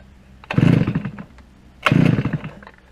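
A petrol brush cutter engine fires up twice in quick succession, each burst a loud, close, raspy two-stroke roar lasting about a second before dropping back, no talking.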